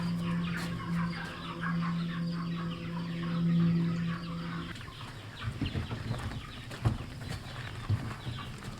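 Chickens on a farm cluck and murmur steadily close by, a busy flock with occasional louder squawks over a low background hum.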